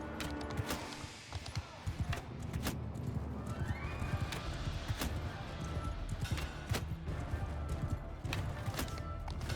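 Horses of a mounted horse archer in the medieval battle game Mount & Blade II: Bannerlord, with repeated loud whinnies and neighs over a steady clip-clop of hooves and battle noise.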